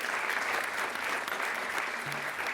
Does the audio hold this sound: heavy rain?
no